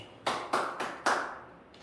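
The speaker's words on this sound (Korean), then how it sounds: "정답입니다. 박수." Students in a Korean math class clap for a correct answer, about four sharp, close hand claps in a quick uneven run with a faint fifth at the end.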